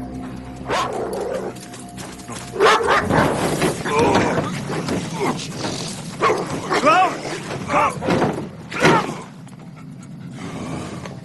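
A dog pants and gives several sharp, loud barks and yips in bursts, close by, with people talking around it.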